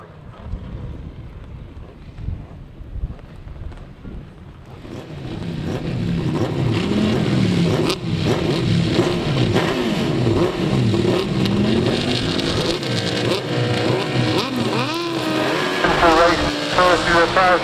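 1000cc grasstrack racing motorcycles at a Wimborne grasstrack meeting snarl into life after a few quiet seconds, then roar loudly and continuously with rising, overlapping revs and some wind buffeting.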